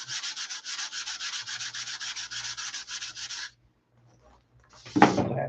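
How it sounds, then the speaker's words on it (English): Fiberglass being sanded over silk span, a close, steady back-and-forth rasping of rapid even strokes for several seconds, then a pause and a short louder scrape. "You can hear the glass grinding. It's got that weird sound to it."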